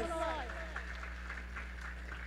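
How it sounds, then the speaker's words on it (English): Thin, sparse audience applause at a Shri Ram puja and Akhand Ramayan gathering runs faintly throughout under a steady electrical hum, with a voice at the very start. "Give yourselves a round of applause."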